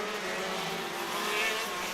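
KZ racing karts at Bunbury City Kart Club in the West Australian KZ Series, a steady, loud engine drone as they pass on track, sustained throughout without speech.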